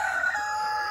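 A fighting cock, one of a group of gamecocks kept on a farm, gives a single crow that holds steadily, heard alone without any voices.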